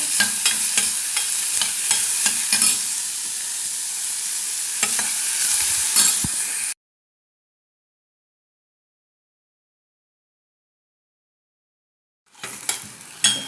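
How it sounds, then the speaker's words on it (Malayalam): Onions sauté in a pan for egg kofta curry, making a close, steady sizzle with repeated scraping stirs. About halfway through, the sound cuts to silence, then the sizzle returns briefly at the end. "ഉള്ളി ഇട്ടിട്ട് നന്നായി വഴറ്റുക. ഇത് നന്നായി വഴറ്റുക."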